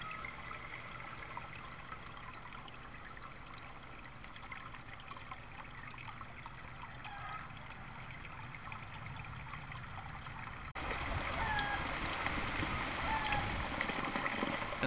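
Water trickles and flows through an aquaponics U-siphon fitted with a venturi aerator, a soft steady stream that grows louder and fuller partway through, heard faintly up close.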